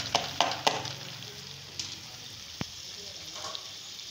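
Boiled mash dal stir-fried with masala in a pan: a continuous sizzle with a few sharp spoon scrapes and taps near the start, close up.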